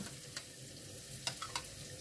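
Cabbage rolls fry quietly in a pan, a soft, low sizzle broken by a few light clicks and pops of the filling against the hot surface.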